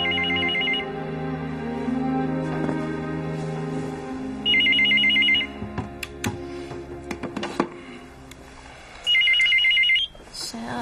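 A telephone rings in three short electronic bursts spaced a few seconds apart, loud and close indoors, with scattered clicks and background sounds filling the gaps between rings.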